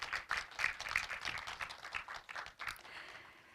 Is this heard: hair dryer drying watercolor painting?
no